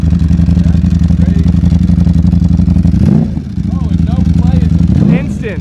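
A Ducati V4 SP motorcycle with a Termignoni titanium exhaust revs hard and close, roaring up, dipping briefly, then surging again with a raspy exhaust note.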